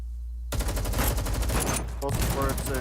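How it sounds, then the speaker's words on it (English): Rapid bursts of automatic gunfire crack out in a dense, loud fusillade during an ambush in the video game Girls' Frontline 2, starting abruptly after a brief quiet moment. "Both squirts and gunfire explode in the yard."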